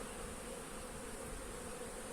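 Honeybees drone steadily around a working hive outdoors, a faint, continuous buzz of many insects with no voices.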